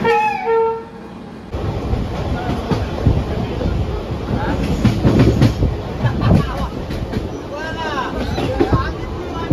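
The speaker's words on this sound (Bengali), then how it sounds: "গাইজ, ঢুকে গেছে ট্রেন আমার।" A train pulls into Bardhaman station, its loud rumbling wheels and clattering carriages close by, with a horn-like tone near the start and people talking over the noise.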